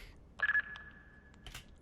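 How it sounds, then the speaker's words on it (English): Lo-fi phone sound effect used in a hip-hop beat, a short electronic ring tone with a sustained tonal beep and brief clicks, fairly quiet and alone. "I added this phone sound effect"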